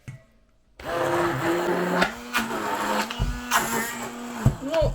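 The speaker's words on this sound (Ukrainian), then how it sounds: "І знову все переб'ю блендером." A blender whirs after a short silence, its motor droning steadily with a few bumps and pitch dips as an ice cream mixture with strawberry jam churns.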